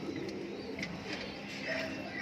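Mukhi pigeons in a loft give soft, low cooing calls in a short burst, fairly quiet and close, with faint chirps over a low background hum.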